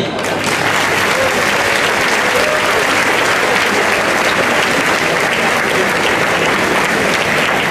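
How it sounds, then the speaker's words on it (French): An audience at an outdoor town festival claps steadily and loudly throughout, a dense continuous wash of applause with no pauses. "vous pouvez les applaudir"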